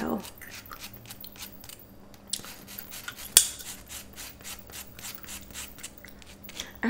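Close, quiet rhythmic rasping of a file against fingernails during a relaxed sleepover manicure, with repeated short strokes and one sharp tap midway.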